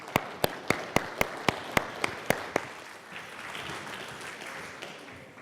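At a media festival conference session, a conference audience applauds two speakers. About nine sharp, evenly spaced claps from one nearby person come first, then they fade into softer, diffuse clapping and murmur from the wider room.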